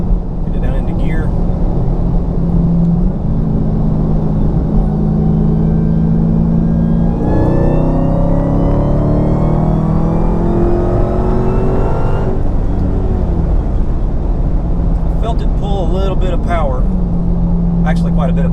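A Hellcat Challenger engine revs during a tuning test run in a garage, holding a steady drone before climbing in pitch through a strong acceleration, then dropping back to idle; a voice talks briefly near the end.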